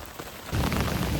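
Heavy rain from an Appalachian Trail thunderstorm drums on a tent, the patter swelling abruptly into a loud, dense, close downpour halfway through.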